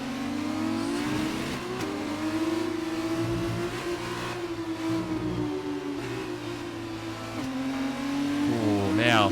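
An F2 race car engine in F1 2019 screams at high revs for the whole stretch, the pitch rising and dipping through gear changes as it brakes and accelerates, with someone talking briefly over it.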